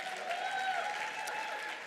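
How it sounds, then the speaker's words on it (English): A big, sustained round of audience applause at an inter-college entrepreneurship event, steady dense clapping throughout with no voices over it. "Let's give them a huge round of applause."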